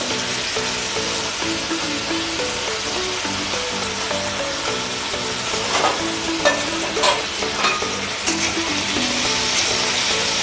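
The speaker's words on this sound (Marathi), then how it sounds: "आता आपण याच्यामध्ये बारीक चिरलेला बटाटा टाकून घेणार आहोत। तो तेलात आपल्याला फ्राय करून घ्यायचा आहे" Finely chopped raw potato frying in hot oil for sabudana khichdi, giving a dense, continuous sizzle with light stirring clatter that grows busier toward the end. No one speaks.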